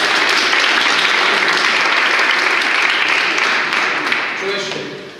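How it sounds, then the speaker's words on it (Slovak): Audience applause during a rhetoric and negotiation-skills seminar, dense loud clapping from many people that holds steady and then gradually thins and fades toward the end. "Potlesk pre vás, aj pre vás."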